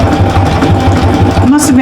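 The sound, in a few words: sewing machine quilting through fabric layers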